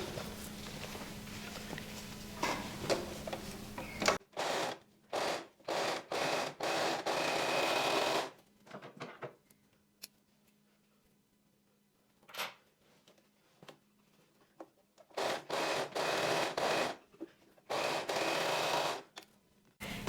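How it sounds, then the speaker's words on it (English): An overlocker serging the seam of a maxi dress, running in bursts of rapid mechanical whirring broken by short pauses and quiet handling. "And now I'm gonna overlock over what we have just sewn."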